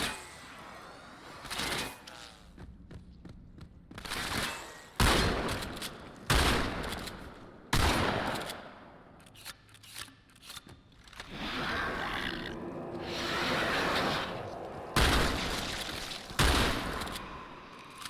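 Gunfire rips through combat in the video game Halo 2 as sharp double-tapped shots, arriving in repeated loud bursts across the stretch with rumbling game noise and creature roars between them.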